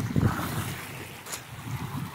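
Near the shore of Russky Island, waves wash in under blustery wind that buffets the microphone, with a low rumbling roar and a brief splash partway through, moderately loud and without voices.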